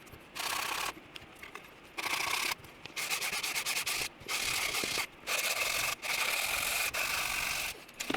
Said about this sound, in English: For sanding these, I only go up to 150 grit